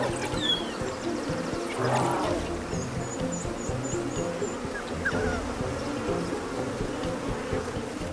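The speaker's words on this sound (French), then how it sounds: "Le vrombissement d'un essaim d'abeilles tueuses n'est pas la meilleure des berceuses pour un lycaon fatigué." Dense buzzing of a swarm of African killer bees, a steady, close drone with individual insects whirring past, in the wild.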